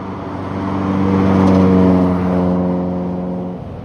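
A Lamborghini Diablo SV passes close by during a car week street gathering, its engine a loud rising and falling drone that swells to a peak mid-pass and then fades.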